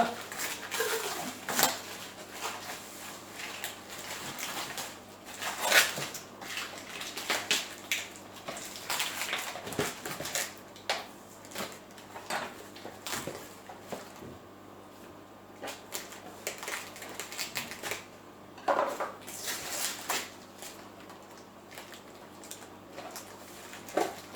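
A Chihiros LED controller is unboxed, along with its small remote, battery and cord, for an A901 aquarium light ramp: close, irregular plastic clicks, rustles and clattering taps of packaging handled by hand, with occasional short gaps.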